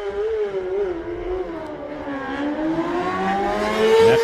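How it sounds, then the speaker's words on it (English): John McGuinness's Isle of Man TT race motorcycle revs climb and waver as the bike gets underway from the start line, a loud close engine note rising in pitch toward the end, with no talking over it. "The revs start to rise, and John McGuinness will get himself underway."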